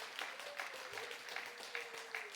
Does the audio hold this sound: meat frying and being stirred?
no